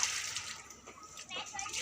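Water splashing and sloshing briefly as cow feed is soaked with a small amount of water on a dairy farm in Gujarat, with children's voices and talk in the background.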